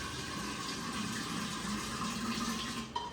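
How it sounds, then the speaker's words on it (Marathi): Water runs and splashes steadily while a clay water pot is washed. The flow sounds close and continuous throughout, with a small knock near the end. "परत धुवा आपण तो माठ."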